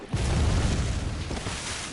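A single heavy gunshot blast from the video game Bloodborne, a loud booming burst with a low rumbling tail that fades over about two seconds.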